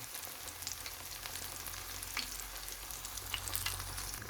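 Banana slices (saging lakatan) frying until crispy, a steady close sizzle and crackle of oil with faint stirring scrapes throughout and no talking.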